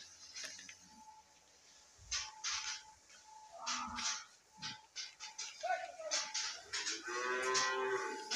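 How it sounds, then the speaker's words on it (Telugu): Buffaloes low inside a dairy farm shed, several deep moos rising one after another at moderate distance, mixed with scattered shuffling and clatter and faint talk. "లోపలికి పోయి చూద్దాం ఎన్ని గేదెలు ఉన్నాయి"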